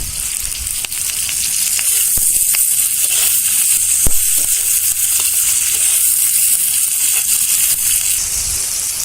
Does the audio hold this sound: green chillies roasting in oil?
yes